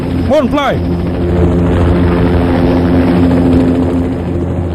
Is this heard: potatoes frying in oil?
no